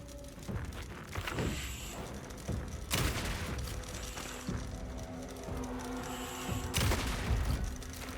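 Shotgun blasts in Alan Wake II, two heavy broadband bursts a few seconds apart over a low rumbling game soundscape, with smaller thuds and mechanical clicks between them.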